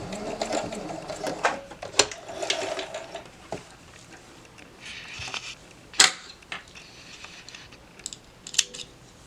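Sewing machine back tacking at the end of a seam on a cloth face mask, a close rapid stitching whir in short bursts, broken by sharp clicks and handling noises.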